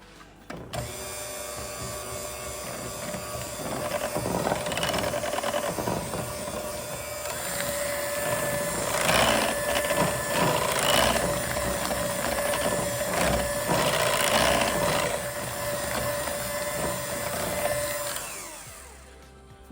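An electric mixer whirs steadily through apricot crumble cake batter, a close mechanical drone with a rising, scraping texture that runs for most of the span before winding down, no voices.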